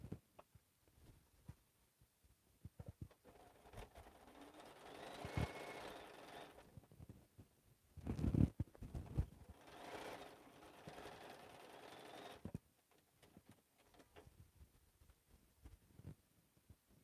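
A sewing machine stitches down part of a slouch bag, faint motor whirring in a few short runs with quiet gaps and some handling noise between them.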